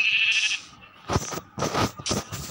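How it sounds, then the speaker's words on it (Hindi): A goat bleats in a village-themed video game, a few loud, wavering cries in quick succession, heard alone without talk. "एक और बकरी मिल गई गैस मेरे को।"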